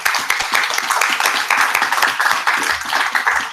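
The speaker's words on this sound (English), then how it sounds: "Let's give them a round of applause." Conference audience clapping for a climate-finance panel, close and loud, with individual claps audible in a lively uneven rhythm throughout.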